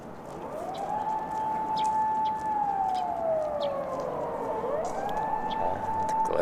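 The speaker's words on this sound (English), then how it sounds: "And glorious sounds of sirens." A wailing emergency vehicle siren sweeps up and down steadily in a street in Oita, Japan, loud and fairly close, over a constant hum of traffic.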